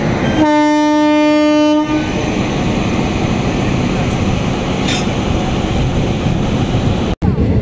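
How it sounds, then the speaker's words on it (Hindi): A passenger train pulls into a platform at an Indian railway station near Chhatarpur, opening with a loud, sustained horn blast followed by a steady, close rumble and clatter of the moving wagons. "हमारी ट्रेन तो प्लेटफॉर्म पर आ गई है"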